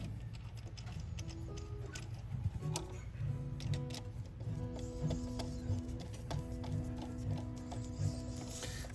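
Screws are cranked down on a Gibson ES-355 guitar during a Bigsby vibrato install, with small steady ticking and clicking from the screwdriver at close range in a quiet room.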